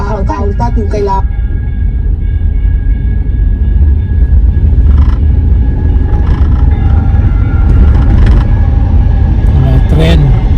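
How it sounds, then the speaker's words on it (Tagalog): A train runs past a road outside Seattle, a steady loud low rumble and rolling clatter that fills the whole span, with traffic noise mixed in and a few sharper metallic squeals near the start and the end. "Mga tren."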